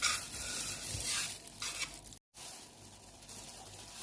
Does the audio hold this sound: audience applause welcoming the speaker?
no